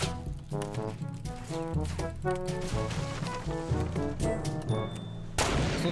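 Gunfire in the Fortnite battle royale game: repeated shots popping over a busy mix of game music and excited shouting voices, fairly loud and continuous throughout.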